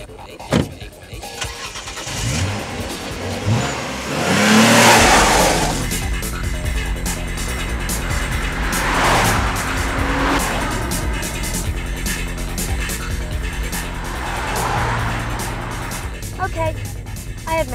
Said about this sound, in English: The lovely little runaround engine has been replaced by some throbbing great V6.